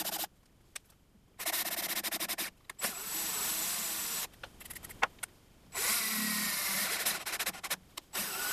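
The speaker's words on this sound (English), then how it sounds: "I think this time I'm going to try using the drill to tap the holes." Power drill whirs in several short bursts and one longer run while tapping threaded holes for a CNC router build, close and clear, with quiet pauses between bursts and no talk.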